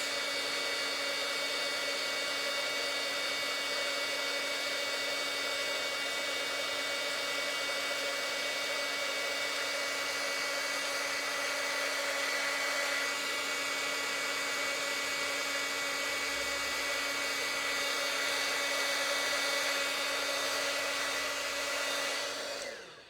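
An embossing heat tool blows with a continuous whirring, high-pitched motor hiss, steady and close for the whole stretch before cutting off at the end.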